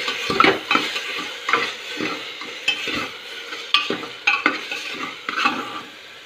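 Tomatoes with dry chillies and salt are stirred and fried in a pan for a cluster bean and dried prawn dish, giving repeated scraping strokes over a soft, steady sizzle.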